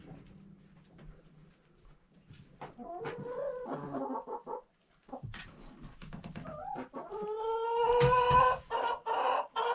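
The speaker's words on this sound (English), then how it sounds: "We have 16 chickens." Chickens cluck and squawk close by, building to a louder burst of overlapping calls toward the end.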